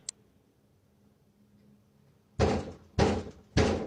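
A door is banged hard three times in quick succession by someone trying to break in. The loud, close thuds follow a short quiet stretch with one faint click at the very start.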